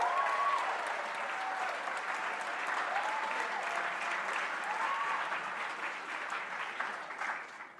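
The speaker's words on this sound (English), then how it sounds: "everyone give her a big round of applause" An audience at an MLK Day celebration gives a big round of applause for a birthday, a sustained, fairly distant crowd clapping that slowly tapers toward the end.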